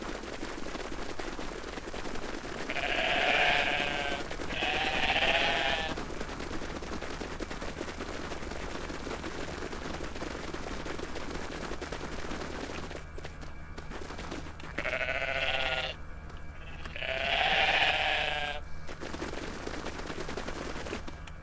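Four short bleats from bighorn sheep in a video game, in two pairs over steady background rumble and hiss, with gaps of noise between them.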